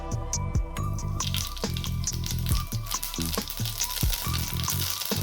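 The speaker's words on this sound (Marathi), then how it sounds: "आता आपण सर्वात पहिले याच्यात मोहरी टाकणार" Mustard seeds sizzle and pop in hot oil in a kadai, a busy, close frying hiss dotted with sharp crackles and quick popping bursts throughout.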